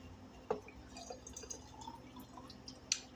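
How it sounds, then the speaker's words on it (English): A little water trickles into a jar coated with stuck minced garlic, faint drips and small splashes with a couple of sharp glassy taps, quiet and close. "I'm going to put a little water in here."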